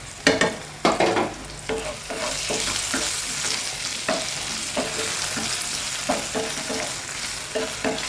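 Chutney ingredients fry and sizzle steadily in a pan, with a few louder stirring scrapes and clinks breaking through the continuous hiss; no talking.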